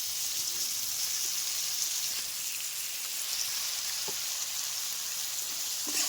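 Potatoes and tomatoes frying in oil in a pan give a steady, dense sizzle that crackles evenly throughout, with no voices over it.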